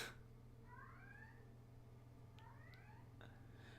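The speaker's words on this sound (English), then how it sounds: "Alright, seems like the cat is now being unhappy." An unhappy cat gives two faint, rising meows a moment apart, set against a steady low hum of background noise.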